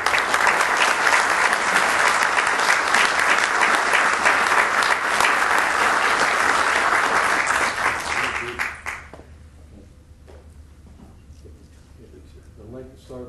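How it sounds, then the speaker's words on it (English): A council meeting audience gives a big, loud round of applause for police officers reaching a service milestone, sustained dense clapping that fades out about two-thirds through, leaving quiet room sound and a faint voice. "I think it's appropriate to give them all a big round of applause"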